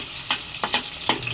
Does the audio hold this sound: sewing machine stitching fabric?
no